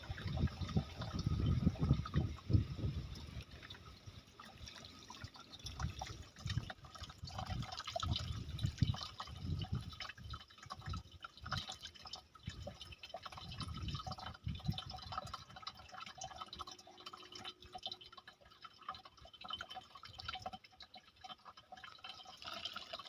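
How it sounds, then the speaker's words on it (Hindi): Water is poured slowly from a pail into a wok, giving a faint, uneven trickling and splashing that comes in bursts and tapers off, quiet and close. "थोड़ा ऊपर रख के धार करोगे ना, नीचे नीचे पानी जाएगा।"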